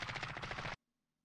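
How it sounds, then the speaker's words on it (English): Rapid automatic gunfire in the Warzone battle royale shooter, a loud, dense burst of repeated shots lasting under a second before cutting to near silence. "People start shooting"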